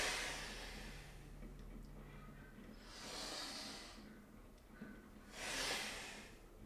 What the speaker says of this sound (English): you should really be able to hear me breathing pretty loud